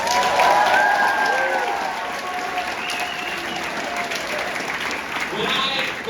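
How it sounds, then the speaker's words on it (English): Audience applause at a TIFF Midnight Madness Q&A, steady clapping from a full house that fades slightly after the first second, with voices and some whistling mixed into the crowd noise. "you deserve your own round of applause"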